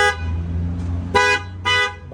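Horn of a Chevrolet Tracker 2 sounds during tyre pressure sensor programming, giving three short, loud beeps at uneven intervals over a steady engine idle.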